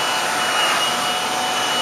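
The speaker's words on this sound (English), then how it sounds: "I like the blow dryers with the comb attachment like this one has." A hair blow dryer with a comb attachment blows in a constant, loud, close whooshing roar while drying hair, with no change in pitch.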